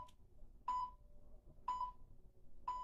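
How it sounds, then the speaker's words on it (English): Three clear electronic beeps from a workout timer sound one second apart, sharp and evenly spaced over faint background noise. "you'll hear 3 loud beeps to signify the last 3 seconds"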